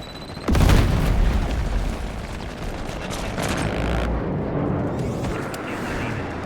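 A grenade blast in Call of Duty multiplayer hits as a sudden loud boom, followed by a sustained rumbling roar and scattered crackling gunfire that gradually settles.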